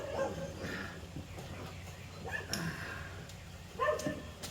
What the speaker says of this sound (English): Now you have that damn dog in the background too